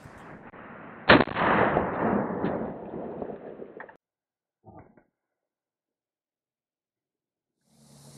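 An M855 5.56 round fires from an 11.5-inch barrel into ballistic gel, one sharp, loud report followed by a few seconds of rolling echo, then near silence with a faint clatter.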